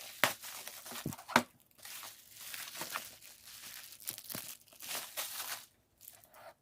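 Bubble wrap packaging around watercolor paints being cut open, with a few sharp crinkling and tearing bursts followed by steady rustling and crackling of plastic, fairly close and without speech.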